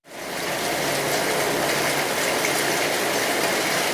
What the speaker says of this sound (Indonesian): hujan deras pun mulai turun